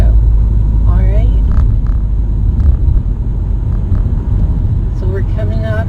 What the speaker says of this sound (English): So I rev it up, clutch out.